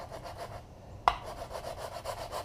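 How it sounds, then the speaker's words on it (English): An 80 grit abrasive on a rigid sanding block rubs back and forth across a guitar body in a steady rhythmic rasp, close up, with one sharp knock partway through. "I got 80 grit on a real nice rigid sanding block."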